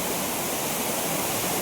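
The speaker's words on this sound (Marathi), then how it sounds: "काय जो बघा चापण्याचा धबधबा कसला वाहतोय बघा आता पावसामुळे" Chafnath waterfall near a temple in Ratnagiri, Konkan, running full after monsoon rain, a steady broadband roar of rushing water filling the whole clip without pause.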